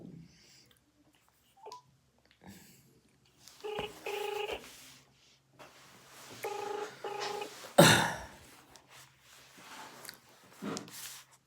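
A phone dials a call. Short clusters of keypad tones sound alongside clicks and soft rustling in a quiet room, followed by a loud burst near the end. A faint voice can be heard briefly.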